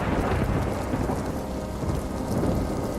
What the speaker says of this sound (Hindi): बारिश होती रही